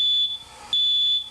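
A home smoke detector alarm shrieks in two loud, piercing high-pitched bursts separated by a short gap, sounding alone without any voices.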